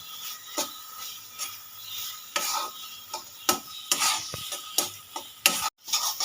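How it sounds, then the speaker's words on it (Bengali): Coconut filling is stirred in a pan, with repeated scraping strokes of a spoon against metal over a soft sizzle. The strokes come at irregular intervals and are heard up close. "দু তিন মিনিট ধরে ভালো করে নেড়ে ছেড়ে নিয়েছি নারকেলের পুরটা রেডি হয়ে গেছে"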